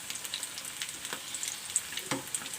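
Snacks shallow frying in a pan of oil give off a steady crackling sizzle with small pops and a few louder spatters, close and alone without any voices.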